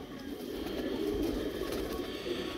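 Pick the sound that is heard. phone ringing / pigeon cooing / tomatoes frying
pigeon cooing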